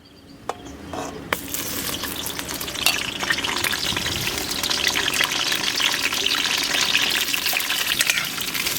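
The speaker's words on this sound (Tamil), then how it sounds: "இந்த கத்திரிக்காய் எண்ணெயிலே நல்லா வதக்கிறேன்னா" Brinjal (eggplant) sautéing in pure wood-pressed sesame oil for a spicy Tamil tamarind curry, giving a loud, steady, crackling sizzle that swells after a quiet start and continues unbroken, with no talking.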